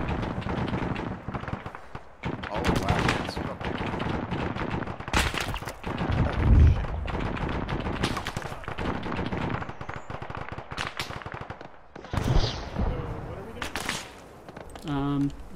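Bursts of automatic and single-shot gunfire in an Arma 3 firefight against a tank, with loud rapid volleys and scattered shots continuing through the stretch while players talk over the shooting.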